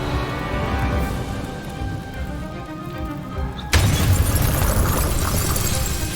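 A Confringo spell blasts open a wall in Hogwarts Legacy, a sudden loud burst of crashing, shattering debris that cuts in over a steady ambient drone and then rumbles on.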